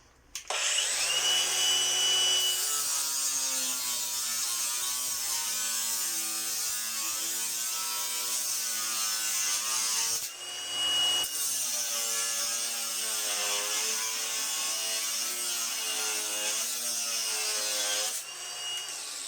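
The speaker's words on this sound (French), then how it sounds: "On va faire 2-3 coupes." An AEG 18V brushless angle grinder cuts through solid square steel bar about 12 to 14 mm thick, a loud close whine that wavers in pitch under load for two long cuts with a brief pause between, no talk.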